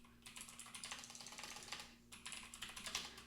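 Fingers type quickly on a computer keyboard, a close run of light rapid clicks with a brief pause midway before the tapping resumes, over a faint steady hum.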